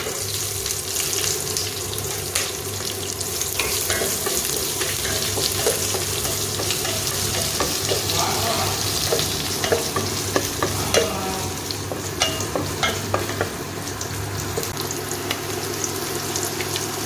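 Loud, continuous frying sizzle of chopped onions in a hot pan, with scattered crackles and stirring scrapes throughout.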